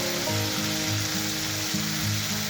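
Dried chili powder and spices frying in an oil-filled pan for a Bengali okra and prawn dish, a steady dense sizzle with faint stirring scrapes running throughout, close and moderately loud with no talking.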